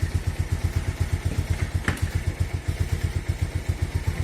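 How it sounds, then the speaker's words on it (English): A Bajaj Pulsar 150 motorcycle engine runs close by in a steady, even thumping rhythm near idle, with one slight blip of throttle partway through and no talking. "It is easily going to 4000 rpm and coming back to 1000 to 1100"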